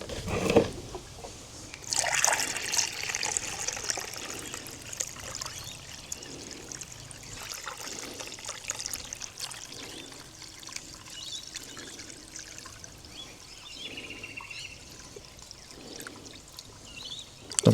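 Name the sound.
water poured into Perkins diesel engine block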